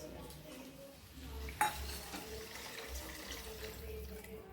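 Water runs and splashes into a cooking pot in a kitchen while making an eggplant and plantain dish, with faint clinks of metal and a brief clatter partway through; no voices.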